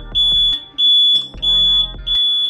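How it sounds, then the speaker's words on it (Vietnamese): A DH48J-8 digital counter's alarm buzzer sounds once the count is reached, giving four loud, evenly spaced beeps with a steady high tone and a low hum behind each one. "còi của chúng ta liền báo động cho ta biết là đã đủ số lần đếm"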